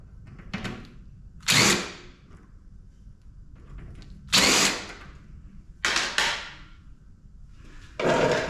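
A power drill drives screws out of a PTAC hotel air conditioner unit being scrapped, in four separate loud whirring bursts of one to two seconds each, with quiet gaps between them.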